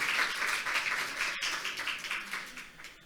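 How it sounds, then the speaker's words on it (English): Moderately loud audience applause for panel speakers at a forum session, dense, fluttering clapping that gradually thins and softens toward the end. "give an applause for our speakers for this panel discussion"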